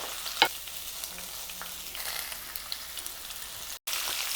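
Chopped onions go into hot oil with cumin seeds for a turkey berry and potato curry, giving a soft, steady sizzle with a few light clinks and stirring sounds. No one speaks.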